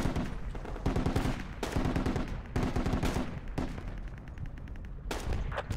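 Rapid bursts of automatic gunfire and scattered single shots in a Project Reality battle on the Goose Green map in the Falklands, loud and close, coming in repeated volleys with short gaps between them.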